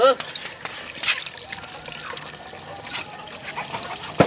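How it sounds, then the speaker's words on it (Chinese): Water trickles and splashes as it is poured into a pressure cooker holding beef bones with scallion and ginger, a close, light pouring with drips, under a voice speaking throughout. "简单的加水，清汤这个，葱姜，还有加上料酒"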